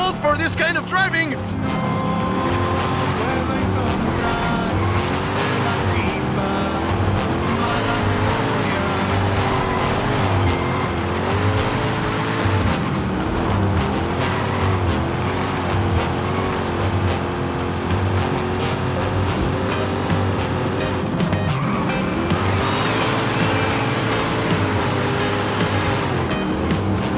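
An old car in the Forza Horizon 5 racing game is driven hard through Mexican terrain, its engine droning and shifting pitch continuously for nearly half a minute with rumbling road noise, while a voice talks over it.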